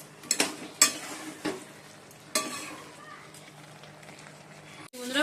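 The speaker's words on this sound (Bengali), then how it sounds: "আমরা চিকেনটা কষিয়ে নিচ্ছি" Chicken braising in a pan while being stirred, with several sharp scraping clatters of a utensil over a steady low sizzle.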